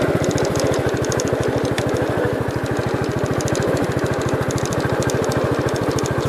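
A 1967 Gravely 430 walk-behind-style garden tractor engine runs steadily close by, its rapid, even low-pitched firing pulses filling the whole stretch at a constant loud level with no talk over it.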